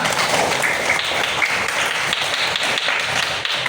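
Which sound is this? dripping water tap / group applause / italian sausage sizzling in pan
group applause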